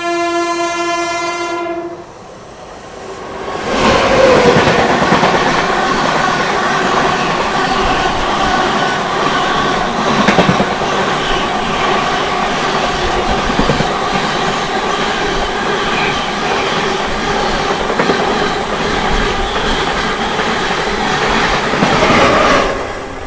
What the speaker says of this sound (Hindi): चलिए दोस्तों, अपनी विक्रमशिला एक्सप्रेस से क्रॉस होने जा रही है 22362 न्यू दिल्ली राजेंद्र नगर पटना अमृत भारत एक्सप्रेस।